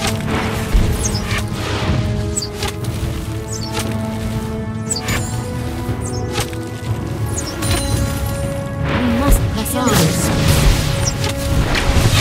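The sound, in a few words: turret being destroyed in League of Legends video game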